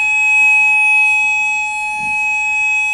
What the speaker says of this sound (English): it's the fire alarm and it goes off every Wednesday at about midday